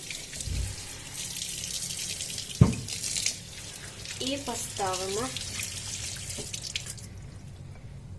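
Tap water runs steadily into a pot being filled for boiling pork tongues in a home kitchen, a continuous splashing hiss with a sharp knock partway through, while someone speaks over it.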